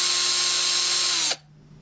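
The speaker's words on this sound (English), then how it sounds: "we can substitute a cordless rechargeable drill such as this." A cordless rechargeable drill whines at a steady high pitch, loud and close, then stops abruptly and leaves a faint hum.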